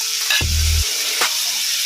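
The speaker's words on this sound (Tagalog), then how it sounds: "Igisa po natin yung sitaw." String beans (sitaw) for pinakbet are sautéed in a pan, with a broad continuous sizzle and a couple of brief stirring knocks, close and loud.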